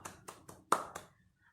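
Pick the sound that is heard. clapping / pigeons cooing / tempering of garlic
clapping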